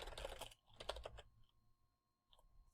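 Keys clatter in quick bursts on a computer keyboard as a short command is entered, a fast flurry, then a pause and a final brief tap sequence, close and fairly quiet with no talking.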